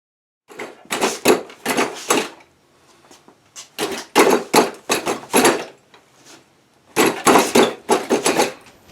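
Sharp wooden knocks from karate strikes on a mechanical training dummy, coming in quick bursts of three to five blows with short pauses between them, close and loud.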